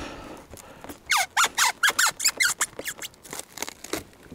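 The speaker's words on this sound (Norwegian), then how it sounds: "Knirk." A wooden beehive lid or frame is pried open, giving a burst of sharp, rhythmic high creaks and squeaks, loud and close, tapering off over a few seconds.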